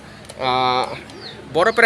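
A pair of large pigeons coos close by in two short, throaty bursts, the second rising near the end, with a voice talking alongside.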